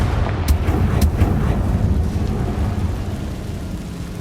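A Confringo fire-spell blast from the video game Hogwarts Legacy booms out as a loud, rumbling explosion with a couple of sharp cracks early on, then settles into a dense, fading roar.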